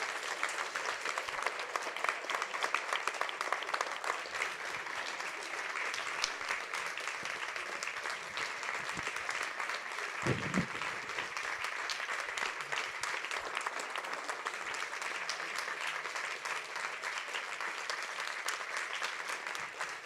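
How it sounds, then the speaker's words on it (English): A live-event audience applauds steadily and loudly for about twenty seconds, a dense continuous clatter of many hands with no pauses. "give these people an astounding applause for what they achieved this morning"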